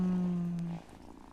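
A cat purring in the video game Wylde Flowers, a steady low hum that holds for under a second and then stops abruptly, leaving faint background sound.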